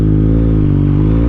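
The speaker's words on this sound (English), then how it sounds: "Progressively open the throttle." A Yamaha MT-09 SP motorcycle with a flashed ECU runs its engine in a loud, steady, close drone with strong low harmonics as the throttle opens progressively, with no speech.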